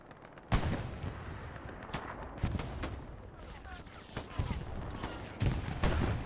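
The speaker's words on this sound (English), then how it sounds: "Can hear an MG up here." Machine gun and rifle fire crackle across a Hell Let Loose battlefield, sharp shots and short bursts at middle distance arriving irregularly over a steady rumble, with no one talking.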